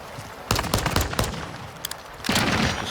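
Gunfire crackles from a pistol in the shooter game Modern Warfare II. Several sharp shots ring out in quick, uneven bursts, loud and close over steady game ambience, with no voices.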